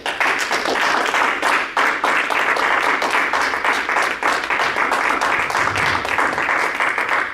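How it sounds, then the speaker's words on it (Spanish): A church congregation breaks into dense, sustained applause for the Lord, many hands clapping loudly and evenly throughout without a break. "Dale un aplauso al Señor."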